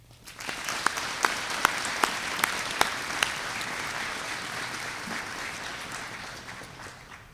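Sustained applause from a graduation ceremony audience at Owen Valley High School, a dense wash of clapping with a few sharper claps standing out early, gradually thinning toward the end.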